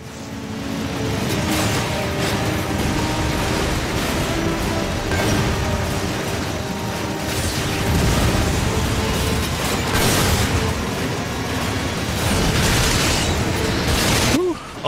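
Gunfire and explosions from the third-person shooter game Lost Planet, with dense continuous blasts and bursts rumbling at steady loudness for the whole stretch.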